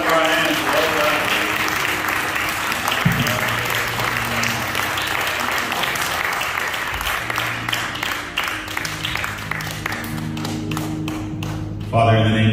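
A church congregation claps hands together in sustained, dense applause that fills the room, with thumps and taps mixed in, and a voice briefly audible near the end.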